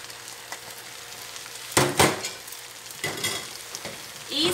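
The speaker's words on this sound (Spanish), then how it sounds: "tratamos de remover el arroz," Rice stirred in a sizzling pot for Venezuelan arroz con pollo, a steady fry hiss broken by several sharp scrapes and knocks of the spoon against the pot, close by.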